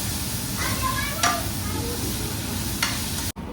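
Cumin seeds and spices sizzle in hot oil in a pan for a Rajasthani-style ridge gourd (toria) dish, giving a continuous close hiss broken by a few sharp stirring scrapes.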